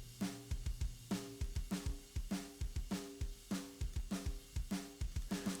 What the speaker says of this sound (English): It kind of gives this kind of that distortion sound you hear with hard clipped or just extremely